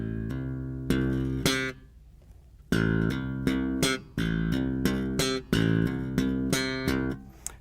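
Bass guitar played with thumb hammer-ons in sixteenth notes, short percussive plucked notes in quick groups of four repeating in bursts, loud and close with no speech.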